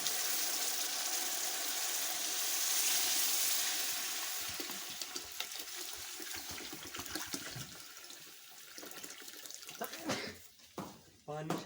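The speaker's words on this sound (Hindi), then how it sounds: "अब हम इसमें पानी शामिल करेंगे।" Water pours steadily into a pot of rice for chana pulao for a few seconds, then gives way to sizzling, clattering kitchen noise and handling sounds.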